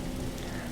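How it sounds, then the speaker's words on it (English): Heavy rain in the Berry Avenue roleplay video game, a dense, steady hiss of falling rain filling a brief moment with no voices. "Please clear the rain right now"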